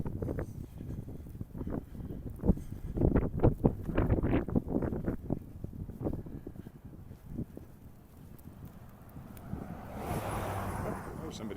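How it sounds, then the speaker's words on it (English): Gusty wind buffets the microphone on a snowy November walk in Regina, rumbling in uneven bursts and then easing toward the end, where a fainter hiss takes over. "enjoy the walk and the sound of the wind"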